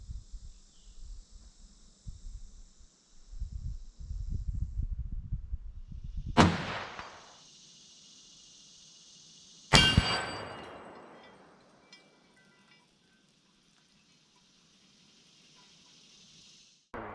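A 30-06 rifle, a 1943 Remington 03-A3 National Match clone, fires twice at a 10-inch steel gong, each sharp loud crack followed by a ringing metallic decay, with faint rustling and a steady low hum in between.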